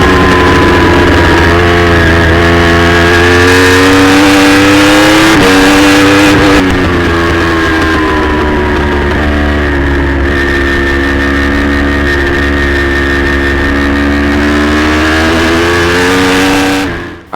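Racing motorcycles scream away at a race start, a loud, close, sustained engine roar with rising and falling revs as they accelerate, fading sharply at the very end.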